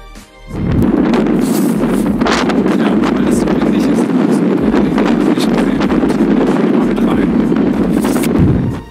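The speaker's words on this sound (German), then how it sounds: "es ist heute ziemlich windig draußen" Strong wind outdoors blasts the microphone in a loud, steady roaring rumble that rises abruptly, holds for several seconds and drops away at the end.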